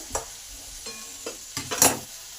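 Half-boiled flat beans, potatoes and green beans fry in a pan, with a few spaced scrapes of a spatula over a low sizzle. The strokes cluster into a louder burst near the end.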